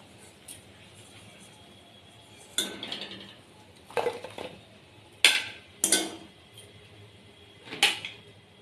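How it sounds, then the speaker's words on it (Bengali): Fried khaja pastries lifted out of hot oil with a metal utensil, heard as a series of sharp clinks and scrapes against the pan, about six distinct knocks over a low background sizzle. "এবার আমি তুলে নেব খাজাগুলোকে"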